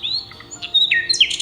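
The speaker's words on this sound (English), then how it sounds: "Nightingale." Nightingale song: a few bright, high chirps and whistled notes, clear and close, growing louder and busier toward the end of a short phrase with no voices.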